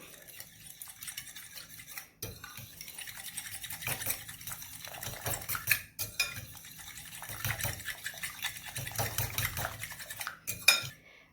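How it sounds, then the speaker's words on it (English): A fork whisking a yeast mixture in a bowl, with rapid repeated metallic clinks and scraping against the bowl, close and fairly quiet, coming in bursts with brief pauses. "with the help of a fork, let's mix the mixture"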